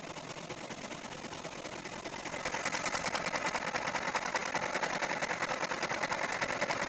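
An embroidery machine runs steadily at 1,000 stitches per minute, a dense rapid mechanical chatter that grows louder and brisker after about two seconds and continues alone without talk.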